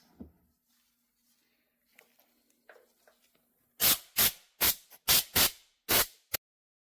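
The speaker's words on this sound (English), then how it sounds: "I have an air compressor, and I just like spray them dry" An air compressor blows items dry in a series of about seven sharp, loud hissing bursts of air, each brief and separated by short pauses, after a quiet stretch with faint handling clicks.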